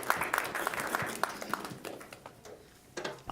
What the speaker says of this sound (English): Can we get a round of applause for these guys for presenting?